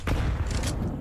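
A grenade goes off during a Counter-Strike professional league match, a dense booming blast with crackling debris that fills the short moment from start to finish, with no voices over it.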